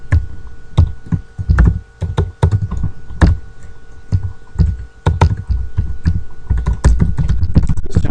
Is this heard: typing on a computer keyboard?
yes